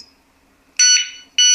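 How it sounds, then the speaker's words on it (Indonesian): Piercing high-pitched electronic alarm from an anti-theft padlock triggered by vibration blares in loud bursts, a long shrill tone followed by another starting abruptly after a short pause. "Nah, getaran pertama bunyinya kayak gitu."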